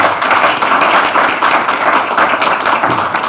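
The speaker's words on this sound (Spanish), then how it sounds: "Démosle un aplauso a Antonella y pasamos..." An audience at a panel discussion on ideas for a free society applauds, with dense, loud, sustained clapping from a room of people and no talk over it.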